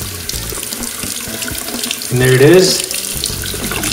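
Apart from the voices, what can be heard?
hot water running from tap after water heater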